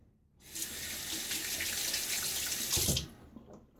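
Water runs steadily from a tap for a few seconds while a shaving lather is being made, a close, even rush that surges briefly near the end and then cuts off.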